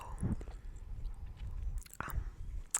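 Close, quiet ASMR chewing and biting of Burger King veggie tenders, with soft moist mastication and a few sharper crunchy bites, alone without talk.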